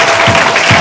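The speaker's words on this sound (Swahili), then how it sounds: "Makofi bila kinyongo." Applause at a school performance, a short burst of dense clapping from a crowd.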